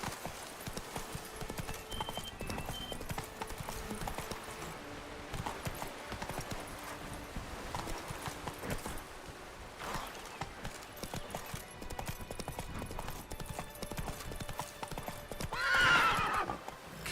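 Horse galloping in The Witcher 3, with steady clip-clop hoofbeats running throughout, a neigh rising near the end, and game ambience underneath.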